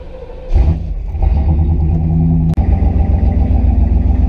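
A 1991 Pontiac Firebird engine fires up and settles into a loud, close rumbling idle with a brief rev, the low drone holding steady throughout.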